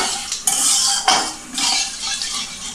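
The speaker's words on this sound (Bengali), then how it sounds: "আমি একটু নেড়ে নিচ্ছি ফোড়নটা" Spices tempering in a pan for a spicy Bengali Bombay duck fish dish are stirred with a spoon, giving loud, continuous scraping and clinking with a few sharper strokes against faint frying, no voices.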